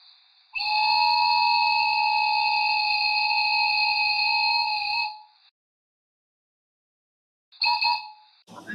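A 3D-printed whistle gives a loud, sustained multi-tone blast like a train for about five seconds, then falls silent before a second short toot.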